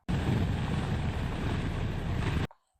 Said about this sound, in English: We are here to throw these discs into the wind. It's super windy.